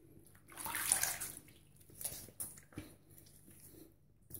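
Water splashing and rinsing a face clean after a straight razor shave, a louder wet splash burst followed by softer intermittent splashes and drips, close and fairly quiet, no talking.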